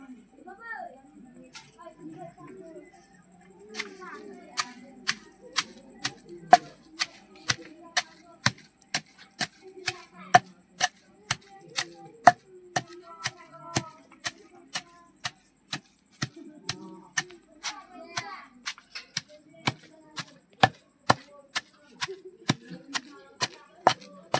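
Roti chutney with salt is pounded in a stone mortar, producing sharp, regular thuds that come in long steady runs with brief pauses, while a voice talks quietly underneath.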